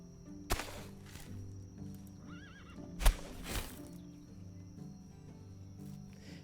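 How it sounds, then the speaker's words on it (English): A stock horse neigh sound effect in the game Medieval Dynasty, a loud whinny and snort or two with hoof clops, over an outdoor bed of crickets and a steady hum, with no talk. "that sounds like a very generic horse sound effect to me"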